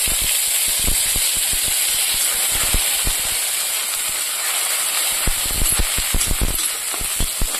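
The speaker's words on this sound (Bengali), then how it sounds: "পেঁয়াজগুলোকে লাল লাল করে ভেজে নেব।" Chopped onions fry in hot oil with cumin seeds and bay leaves, giving a steady close hiss broken by scattered crackles and pops, with no voices.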